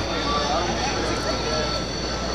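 A Harrier jump jet with a Rolls-Royce Pegasus engine at the Air Power Over Hampton Roads 2009 air show gives off a loud, steady, unbroken jet roar that stays close and constant throughout.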